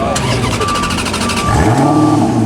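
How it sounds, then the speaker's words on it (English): A pink Bugatti supercar rolls out, its engine note rising as it pulls away nearby, loud and close, with faint voices in the background. "Pink Bugatti rolling out"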